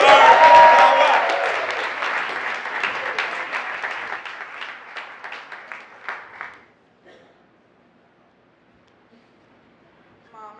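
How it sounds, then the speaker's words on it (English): Audience at a local comedy festival show applauds loudly at first, then the clapping thins into scattered claps and fades out after about seven seconds, leaving near silence. "Please give a round of applause to Keith Bacon."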